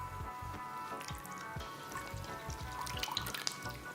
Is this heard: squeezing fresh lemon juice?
yes